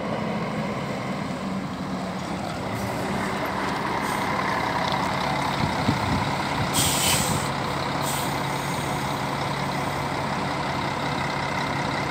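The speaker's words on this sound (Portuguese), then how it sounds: "Rápido Federal está chegando no embarque de Brasília para Paracatu." A Rápido Federal intercity coach pulling into the Brasília boarding area for the Paracatu route, a steady idling engine rumble with brief hissing air-brake releases, close and without talk.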